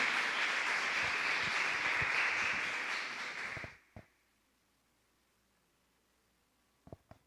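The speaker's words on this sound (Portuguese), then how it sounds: "Aplauda o Senhor pela vida dela." A church congregation applauds steadily during a worship service, a full round of clapping lasting a few seconds before it fades out, followed by near silence and a couple of faint knocks.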